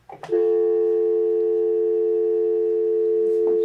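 A steady, continuous telephone dial tone holds for about three seconds after a brief click of handling at the start, heard alone with no talk.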